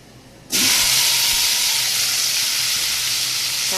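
Shredded cabbage drops into a hot dal tempering and erupts into a loud, steady sizzle that holds strong and even, a bright frying hiss filling the kitchen with no talking.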